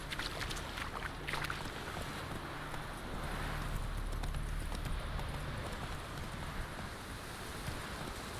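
A horse's hooves clip-clop steadily at a moderate pace in The Witcher 3, a soft, even rhythm against a constant low background hum with no speech.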